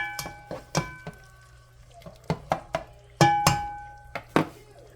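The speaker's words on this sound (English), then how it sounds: "I'm going to go ahead and mix this around real quick." Spoon clinking against a dish while spaghetti seasonings and salt are stirred together, a string of irregular light taps and scrapes, close and fairly quiet.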